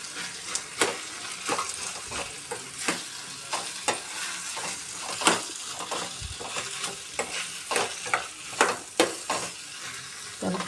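Onion, potato and carrot frying in a pan give a steady close sizzle, broken by sharp scraping strokes of a spatula roughly every second.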